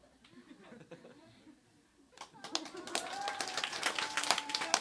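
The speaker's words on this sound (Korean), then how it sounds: "한번 격려의 박수 해주실래요?" An audience at a church testimony gathering breaks into encouraging applause, starting after a quiet moment with murmurs and light taps, then swelling into steady, fairly close clapping mixed with chuckles and some chatter.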